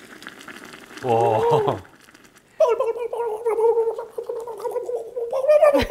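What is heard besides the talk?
soup boiling and bubbling in a pot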